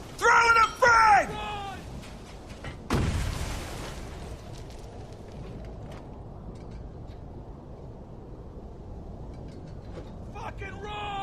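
A frag grenade explosion in the war shooter Spec Ops: The Line, a sudden loud broadband blast near the middle, followed by a long decaying rumble. Shouted voices come before it, and more shouting returns at the end.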